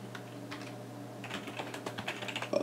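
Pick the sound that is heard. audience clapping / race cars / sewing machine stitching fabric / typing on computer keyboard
typing on computer keyboard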